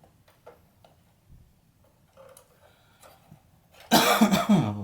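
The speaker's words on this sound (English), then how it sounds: "Random dry cough." During a projector lamp replacement, one loud, sudden dry cough bursts out near the end after quiet handling sounds and faint ticking.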